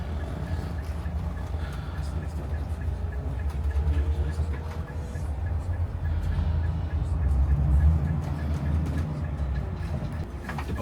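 Inside a moving Greyhound bus, heard from the front seat, a continuous low road rumble and engine drone carries on steadily, swelling slightly at times.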